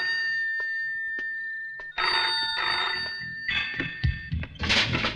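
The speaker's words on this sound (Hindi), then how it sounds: "टेलीफोन?" A telephone rings with a bright, sustained bell tone, first over near-silence, then under busy rustling and clattering sounds that grow louder toward the end.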